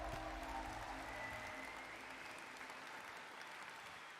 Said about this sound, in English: I am applauding right now.